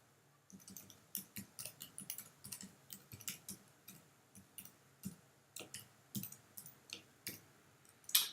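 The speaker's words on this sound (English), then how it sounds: "I'm going to type in the download link that you guys can get those at." Quiet, close typing on a computer keyboard: irregular bursts of light key clicks in a run of uneven rhythm, with no talking.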